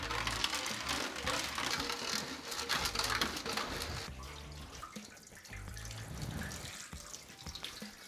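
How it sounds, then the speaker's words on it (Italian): Demineralized water rinsing out a Suzuki GSX-R 750 WN motorcycle fuel tank, a steady broad splashing and sloshing rush that continues throughout, fairly close, easing slightly partway through. "abbiamo risciacquato a sufficienza con acqua"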